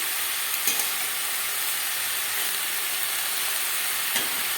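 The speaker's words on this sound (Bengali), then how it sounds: "শাক দিয়ে দিলাম ওর সঙ্গে মিশিয়ে নেবো" Kalai greens being stirred into a frying mutton curry give a steady, moderate hiss with occasional soft scraping stirs, heard alone and close throughout.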